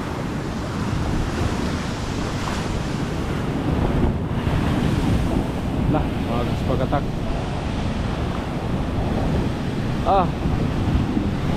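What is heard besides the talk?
rough water and wind after a storm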